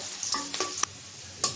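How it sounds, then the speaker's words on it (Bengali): Steady broadband sizzle of food frying in a pan, with a few sharp scraping clicks of a spatula stirring; no voices. "পেঁয়াজটা ভেজে নেব।"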